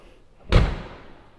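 The door of an old low-mileage Ford Falcon, once a rural mail route car, slams shut once, a solid close thud that fades quickly.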